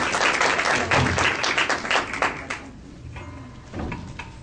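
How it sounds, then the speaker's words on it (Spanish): Applause for an author at a regional family-law conference, a dense burst of clapping that swells for about two and a half seconds, then thins to scattered claps and a final short flurry. "Un fuerte aplauso a la autora"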